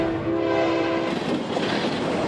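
A train rolls past a railroad crossing in Missouri, a long horn tone sounding near and loud at first before giving way to steady rumbling wheel clatter and rail noise, with no voices.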